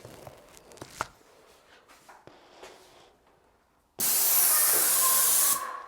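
A paint sprayer coats an interior wall: quiet handling clicks and shuffles come first, then a loud, steady hiss of spray starts abruptly and runs for about two seconds before cutting off.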